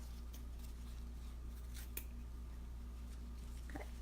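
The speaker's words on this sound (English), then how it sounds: "just go back and cut the tails like we did on the other" Scissors snipping the tails of a ribbon bow, a few soft crisp cuts over a steady low hum, fairly faint and close, with no talking.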